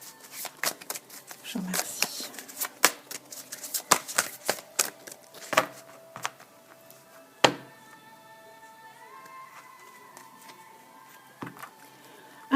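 Tarot cards shuffled by hand in a sentimental guidance reading, a run of crisp riffling and tapping strokes from close by, followed by a quieter stretch; a voice speaks briefly.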